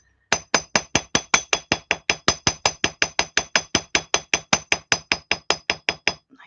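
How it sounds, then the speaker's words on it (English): A hammer's rounded end strikes jewellery wire spirals to add texture, about thirty sharp metallic taps in a quick, even rhythm, close and clear with nothing else heard. "So if you want a bit of texture, just use the rounded end of your hammer."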